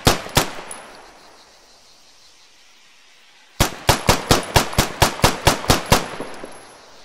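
Video game weapon fire in a weapons showcase: two sharp shots, a pause of near silence, then a rapid rhythmic burst of about ten loud evenly spaced shots; no talking.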